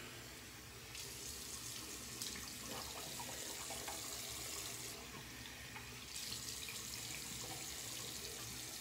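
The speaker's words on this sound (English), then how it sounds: "Just rinse off real quick." A bathroom tap runs to rinse during a shave, with a steady close hiss of flowing water that rises and falls as the stream is interrupted, with no talk.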